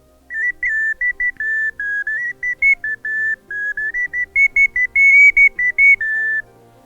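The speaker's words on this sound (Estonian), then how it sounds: "Nii, ja veel üks ilus saare oksast vile" An ash-branch wooden whistle plays a lively run of short, clear, bright notes, tongued in quick bursts with brief gaps, close and loud with no talking.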